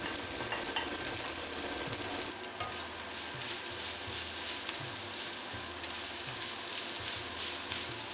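Egg fried rice with king prawns and egg being stir-fried in a hot wok, a steady loud sizzle with rhythmic scraping and tossing strokes repeating every second or so, no voices.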